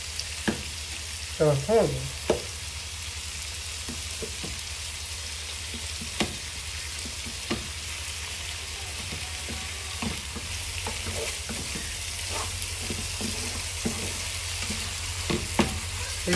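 Rougail saucisse simmers slowly in a pot with a steady, broad sizzle and crackle, broken by occasional spoon taps and a short burst of stirring near the start, while a voice briefly speaks.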